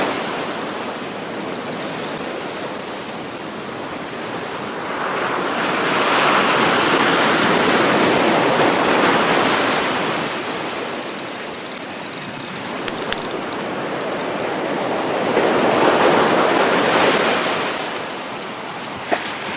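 Ocean surf on a New South Wales beach during saltwater fishing rolls in broad hissing swells, two waves building and washing in loudly, with continuous roaring wash between them.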